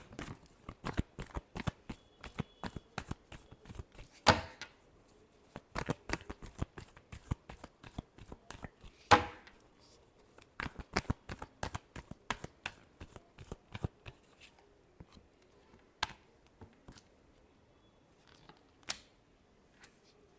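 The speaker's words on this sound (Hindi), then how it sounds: "Last shuffle." Tarot cards are shuffled in a long run of quick, crisp riffles and taps, close and fairly quiet, with brief pauses between bursts.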